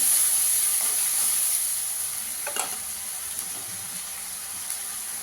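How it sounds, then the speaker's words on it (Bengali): Onions and spice masala sizzle steadily in a hot pan for garlic potato dum, a loud continuous hiss with faint scraping of stirring, no voices. "ওই মশলাটাকে ভালো করে কষিয়ে নিতে হবে।"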